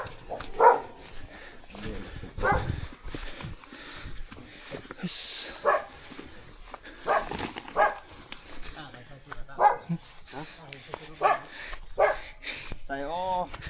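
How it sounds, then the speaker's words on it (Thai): A dog barks in short, repeated bursts through the clip on a farm raising wasps and bamboo rats, near and fairly loud, mixed with people talking throughout. "มีสุนัข"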